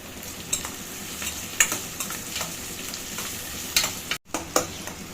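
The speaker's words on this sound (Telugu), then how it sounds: "ఉల్లిపాయలు ఇట్లా ఎర్రగా వేగాలి." Onions fry in a pan with a soft, continuous sizzle. Intermittent stirring scrapes and clicks sound close by, and there is one brief dropout near the end.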